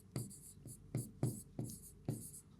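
Someone writes numbers by hand during a maths lesson, producing close, rhythmic scratchy strokes in short bursts, with a faint quiet voice underneath.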